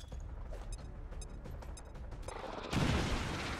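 A grenade explodes in XCOM 2 with a sudden loud broadband blast near the end, after a stretch of lighter crackling gunfire and mechanical clatter. The roar from the explosion sustains briefly.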